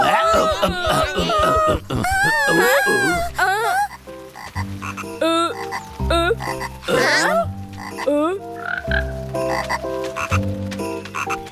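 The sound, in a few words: cartoon frog croaking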